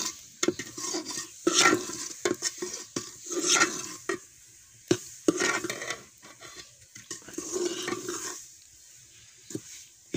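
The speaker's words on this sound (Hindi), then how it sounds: "हल्की आंच पर सूजी जो है ना, इसको भूना जा रहा है।" Semolina roasting over a low flame in a pan for halwa, stirred with a utensil that scrapes and clinks against the metal in uneven strokes, with a faint background hiss.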